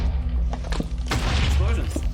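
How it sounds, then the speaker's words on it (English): Booms and crashing blasts from explosions in a dungeon of a video game, a few bursts clustered midway, heard alongside game noise and under light background sound. "Explosions are in here."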